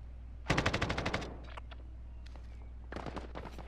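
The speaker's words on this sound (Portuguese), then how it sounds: "Estão atirando em você." Automatic gunfire in Call of Duty: Modern Warfare, a rapid burst of about a dozen shots followed by scattered single cracks and a shorter second burst, fairly close over a low hum.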